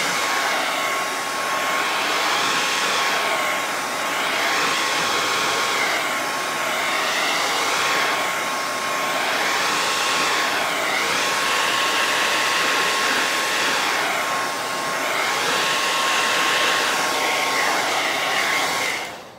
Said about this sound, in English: I'm gonna give this a little blow dry